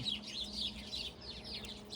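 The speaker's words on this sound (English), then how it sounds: "Looks like we're having a congregation here of birds" Birds gather outdoors on a sunny day, a mix of chirps and clucking calls that sound like chickens, repeated at a moderate distance over a low hum.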